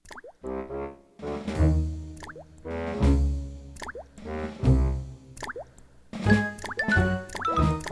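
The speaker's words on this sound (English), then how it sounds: "there was water dripping in the kitchen" Water drips in a kitchen in a Disney cartoon, each drop landing as a resonant plop in a slow, regular rhythm, close and clear with musical tones ringing between them.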